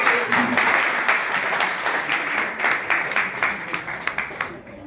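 An audience applauds children after their stage drama of Lord Ram meeting Shabari: dense, steady clapping that thins into scattered separate claps toward the end.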